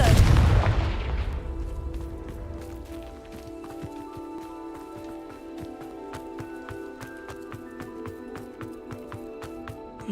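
A Confringo spell bursts in a Harry Potter video game: a loud, broad explosive blast at the start, then rumbling debris and a long ringing, crackling tail that fades slowly over several seconds with no talk.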